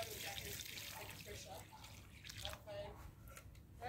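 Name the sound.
water poured around a newly planted tree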